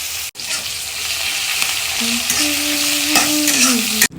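Onion, ginger paste and green chili fry in a wok over a black cumin tempering, making a loud, steady sizzle with stirring that runs throughout, close up and without talk.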